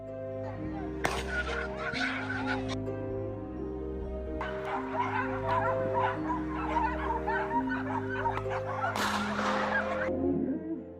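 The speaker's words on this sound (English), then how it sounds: "A loud bark echoes from the western hills." Hunting dog Diesel, a five-year-old lead dog, barks and yips in outdoor hills during a wild boar hunt, a few sharp bursts over a steady low hum, with whimpering in between.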